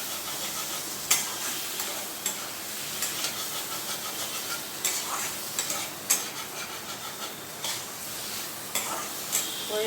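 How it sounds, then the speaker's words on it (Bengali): Spiced teasel gourd (kakrol) is stirred in a hot pan, a constant oily sizzle and hiss with intermittent scraping knocks of the spoon against the pan, close and without talk. "দিয়ে এবারে একটু নাড়াচাড়া করে নিচ্ছি।"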